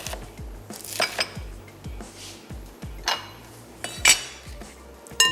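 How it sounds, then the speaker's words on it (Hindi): A knife chops cabbage into large chunks on a board, with a steady rhythm of sharp, close thuds and occasional brighter clinks of metal against the cutting surface. "थोड़े बड़े बड़े से चंक्स काट लेते हैं कैबेज के।"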